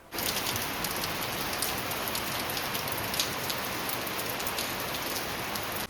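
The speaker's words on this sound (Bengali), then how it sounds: "দেখো পরিবেশটা পুরো মেঘলা আর চারিদিকে বৃষ্টি হচ্ছে।" Steady rain falls under cloudy skies in Lava, Kalimpong, a dense, even hiss of drops on surfaces that holds unbroken throughout, close and fairly loud with no voices.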